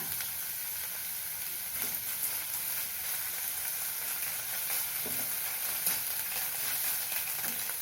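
Onion and green chilli sauté in a pan with salt for a snake gourd dal, giving a steady, close sizzle and crackle throughout with occasional soft stirring scrapes and no voices.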